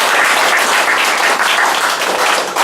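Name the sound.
audience applause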